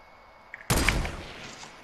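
A single loud, close gunshot in Fortnite with a sharp crack and a decaying boom tail, preceded by a faint click.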